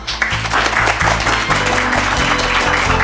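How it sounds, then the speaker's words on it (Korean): Steady applause from a television studio audience welcoming Go player Lee Sedol, continuous clapping at a moderate, even level for the whole stretch with a faint background hum. "큰 박수로 맞아주십시오"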